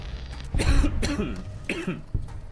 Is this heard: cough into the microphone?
yes